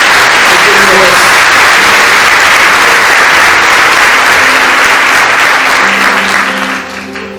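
A church congregation at a communion service claps loudly and continuously, a thick wall of applause that holds steady before tapering off slightly toward the end.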